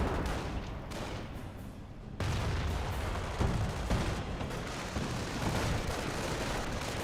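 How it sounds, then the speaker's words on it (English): Flak 88 anti-aircraft gun firing on an anti-tank gun in Company of Heroes, heavy booming shots and explosions layered into a dense, loud battle din with no pauses. "Flak 88 hitting the AT gun."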